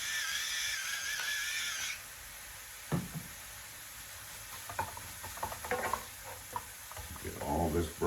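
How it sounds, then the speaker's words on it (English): Crumbled sausage scrapes and sizzles in a frying pan as a utensil breaks it into small pieces and browns it for biscuits-and-gravy gravy, with uneven clacks and scraping over a steady frying hiss. "Get all this broken down so we don't have great big clumps of sausage."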